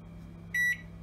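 A Sharp R-372M 25-litre microwave, with its jacket potato button pressed, gives one short, clear, high electronic beep over a quiet background hum.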